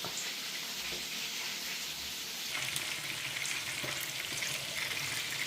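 Food sizzling steadily in a hot pan, a constant crackling hiss with a faint clink of stirring, no voices.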